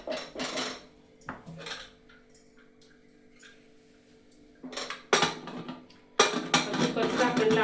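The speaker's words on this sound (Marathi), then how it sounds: "कुकरचं झाकण लावत आहे।" A pressure cooker lid is fitted onto a pot of sweet coconut rice, giving a few brief metallic clanks and scrapes between quiet pauses, close by, with a louder clatter near the end.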